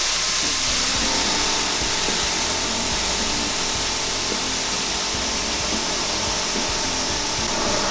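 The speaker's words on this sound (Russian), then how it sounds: "Пробуем раскрутить сначала воздухом." Compressed air blasting at a wheel to spin it, a steady loud hissing rush with a faint rattling rumble underneath, continuous throughout.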